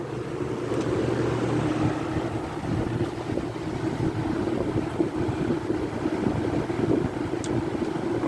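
Galaxy box fan running on medium speed, giving a steady, even whoosh of moving air with a low hum underneath, close and continuous.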